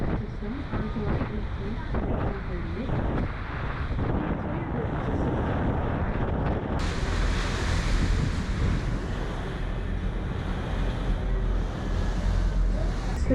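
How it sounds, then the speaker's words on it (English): Strong wind roars and buffets the microphone throughout on a boat in the 1000 Islands, New York, mixed with rushing water and surf, growing harsher and broader about halfway through. "it's too windy out here to get a good voice recording"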